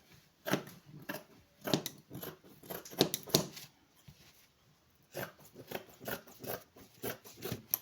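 Scissors snip through fabric while cutting the back piece of a crop top, sounding as close, quiet clusters of crisp cuts with short pauses between bursts, with no talking.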